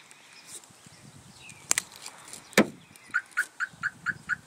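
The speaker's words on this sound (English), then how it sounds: "Here, I'll just go ahead and hit the panic button for you. Hear the alarm go off." A car security alarm set off by the panic button, a couple of sharp clicks and a chirp, then a loud rapid series of repeating electronic honks pulsing at a steady rhythm nearby.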